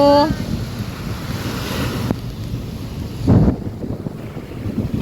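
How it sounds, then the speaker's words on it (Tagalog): Strong surf rolls in at Dolomite Beach during a typhoon, a continuous roar of waves mixed with heavy wind buffeting the microphone, with a louder surge partway through. "malakas talaga yung hampas ng alon"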